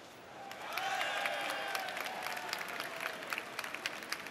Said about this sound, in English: I hear some applause.